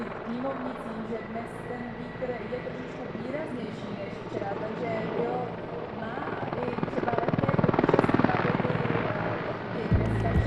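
A Mil Mi-24 military helicopter flies past at an airshow, its rotor thudding loud and steady and swelling as it comes closer, with a commentator talking over it.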